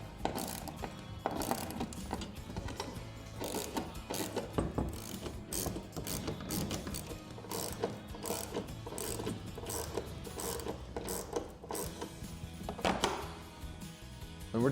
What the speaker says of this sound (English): using a 14mm socket, we're going to hand tighten all 4 of the lag screws to the wall